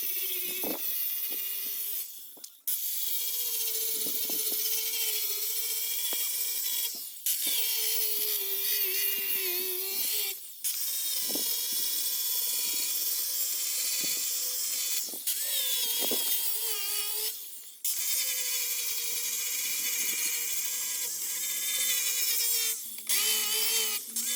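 A loud, high-pitched angle grinder strips old paint from a wooden door, grinding continuously with brief pauses every few seconds before whining back up, close by.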